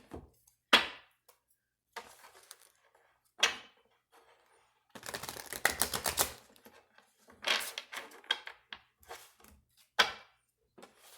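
Fairy oracle cards are shuffled and pulled, with scattered soft taps and slaps, then a dense riffling flutter for a couple of seconds and more sporadic card snaps, close and quiet without talk.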